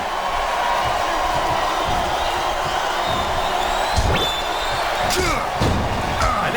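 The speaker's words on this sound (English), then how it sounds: "Sounds like this crowd's got something on their minds, King." A large video game wrestling crowd roars and cheers continuously in an arena, from WWE SmackDown vs. Raw 2008 during a Theodore Long vs. Tazz submission match, with scattered thuds and slams cutting through the noise.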